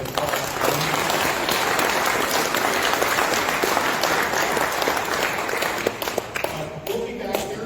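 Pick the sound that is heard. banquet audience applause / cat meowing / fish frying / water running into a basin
banquet audience applause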